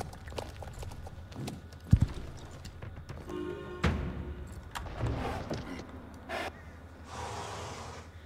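Horse hooves clip-clop in the video game Star Stable Online, with scattered hoof strikes and a couple of sharper thuds over a quiet ambient game background.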